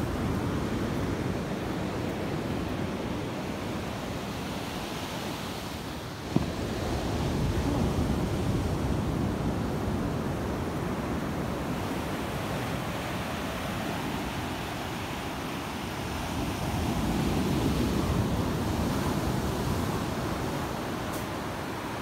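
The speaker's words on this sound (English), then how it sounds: "We are on the beach and the waves are quite loud" Loud ocean surf pounds a beach with a steady, dense roar over more than twenty seconds, swelling slightly near the end, with wind buffeting the microphone and one brief knock partway through.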